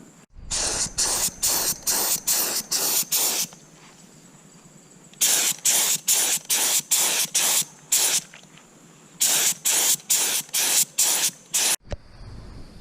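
An air paint sprayer coats a school bus conversion with loud hissing bursts, delivered in three rapid runs of short blasts with quieter pauses between them, close to the listener.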